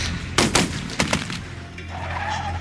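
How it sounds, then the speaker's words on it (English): Several gunshots ring out close together outside a house, two sharp loud bursts each followed by a quick echoing pair, then a steady hum with faint background noise. "He heard several gunshots."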